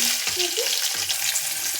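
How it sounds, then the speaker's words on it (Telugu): Curry leaves and onion pieces sizzle in hot oil, a steady close crackle with a couple of brief stirring scrapes and no voices. "కరివేపాకు ఉల్లిపాయ ముక్కలు వేస్తున్నానండి ఆయిల్ హీట్ ఎక్కింది"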